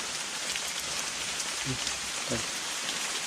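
Steady rain falls outdoors, a close, even hiss of drops on surfaces, with two brief low thumps partway through.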